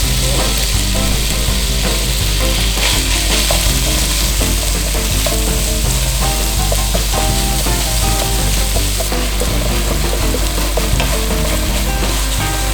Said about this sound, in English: So just gentle stir fry round.